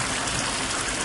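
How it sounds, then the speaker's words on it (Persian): Flowing water from a stream in a dark spot runs steadily and fairly close, a dense broadband rush with no voices over it. "اینجا دوباره ما جریان آب رو داریم"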